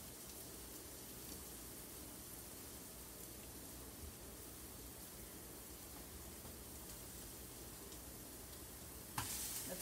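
Hamburger patties sizzle in a pan, a faint, steady, hissing fry that runs unbroken and alone, with a small clatter near the end.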